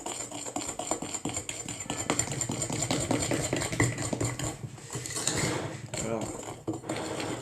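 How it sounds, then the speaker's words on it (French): A spoon stirs chocolate cake batter in a bowl, giving a steady run of scraping, clinking strokes that sounds close by and fairly loud, with a low hum running underneath. "Vous mélangez le tout."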